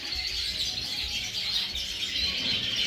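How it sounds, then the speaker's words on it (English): Colour mutation siskins in an aviary give soft, high chirps and twitters that run together. The calls are continuous but faint, heard over a low background rumble. "colour mutation siskins. Browns, Isabels,"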